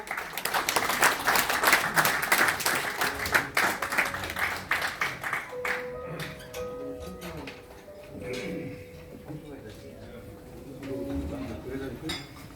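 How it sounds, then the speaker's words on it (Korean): An audience at a business forum in a Seoul tower gives a warm round of applause welcoming a former defense minister to the stage, dense clapping that thins out and gives way to room noise and voices. "나오실 때 뜨거운 박수로 환영하시기 바랍니다"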